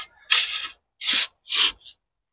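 Soil in a long carrot barrel being flattened and levelled by hand, three close, gritty rubbing and scraping strokes, each about half a second, separated by silence.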